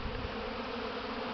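Spring warmth at +20 brings a mass flight of orange-striped, non-purebred honeybees around the apiary hives, their combined drone a constant, unbroken hum that holds steady throughout.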